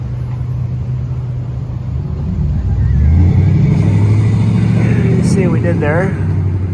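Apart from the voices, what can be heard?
2021 Dodge Durango exhaust revving with Flowmaster Outlaws and H-pipe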